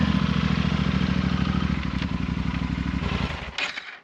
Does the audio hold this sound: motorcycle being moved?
yes